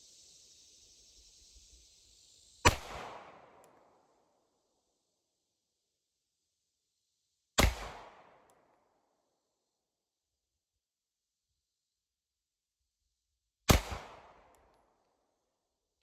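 Three Glock 48 MOS pistol shots, each a sharp loud crack with a short fading tail, spaced about five to six seconds apart outdoors. A faint hiss comes before the first shot, and no one speaks.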